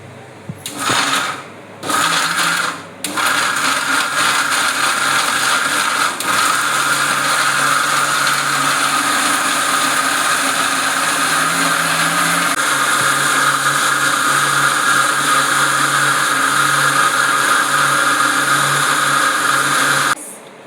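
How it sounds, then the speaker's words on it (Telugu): A mixer grinder grinding chutney whirs loudly and continuously after a few short bursts, a steady motor drone with a shift in pitch partway through. "మనమైతే మిక్సీ ఆడించుకుందాం"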